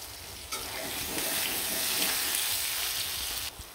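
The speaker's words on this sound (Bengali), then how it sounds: "আলুগুলো কিন্তু খুব সুন্দর লাল লাল করে ভাজা হয়ে গেছে" Potatoes fry in hot oil while chicken curry is being made, giving a steady, close hiss and crackle with no break for the full few seconds and no voices.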